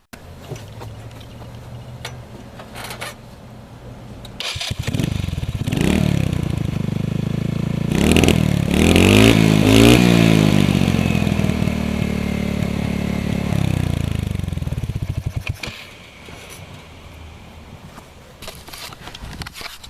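A Hammerhead GTS Platinum go-kart engine with a dirty air filter starts up, revs loudly with rising and falling pitch for about ten seconds, then drops back to a rough idle.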